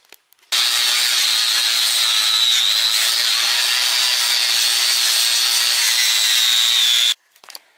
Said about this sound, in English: I'm going to flapper wheel all of this down